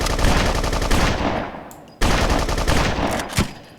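Rapid automatic gunfire from the video game BloodRayne, two long bursts of rattling shots separated by a sharp cut, loud and close with a fading tail after each burst.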